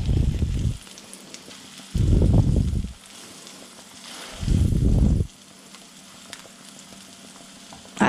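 An egg frying in a pan after being flipped, heard as a steady, gentle sizzle with louder hissing surges about every two seconds, and no talk over it.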